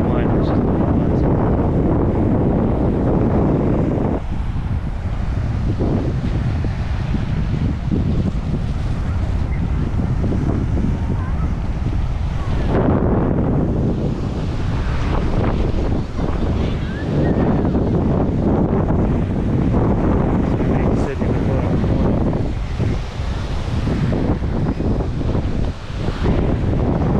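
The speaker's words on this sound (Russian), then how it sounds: "такой ветерок, такие волны прям нормально сейчас поднимаются." Strong wind buffets the microphone over the steady wash of sea waves in Nha Trang, Vietnam, loud and continuous throughout, with occasional voices underneath.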